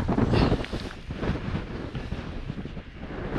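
Strong wind buffets a hillside in the Cheviots during a solo wild camp, roaring steadily across the microphone with loud rushing gusts throughout and no speech.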